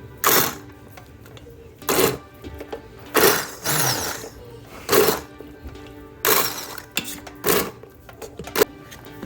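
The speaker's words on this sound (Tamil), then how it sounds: "ஹேண்ட் பிளெண்டர் எடுத்துக்கோங்க. எடுத்துகிட்டு ஆன் பண்ணி" A hand blender mashing cooked black beans in an Instant Pot, with short loud whirring bursts repeating every second or two between quieter pauses.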